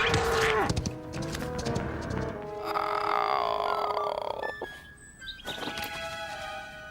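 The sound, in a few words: cow roaring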